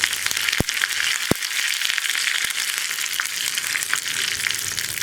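Dried red chillies and curry leaves sizzle loudly in hot oil as a tempering for a beetroot lentil curry, with a dense crackling hiss and several sharp pops and clicks.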